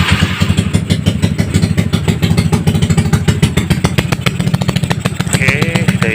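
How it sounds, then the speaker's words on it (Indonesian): A cold Yamaha Mio motorcycle engine fitted with a Satria FU dynamo runs loud and close, a fast, rough, pulsing idle that stays steady throughout with no voices over it. "Oke, saya hidupkan dulu. Ini masih adem mesinnya ya, belum saya panaskan."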